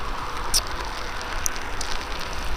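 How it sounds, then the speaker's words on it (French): Rain falling steadily on the beach at Noordwijk, a continuous soft hiss with a few sharp crackles and drips. "Là il pleut pas mal quand même."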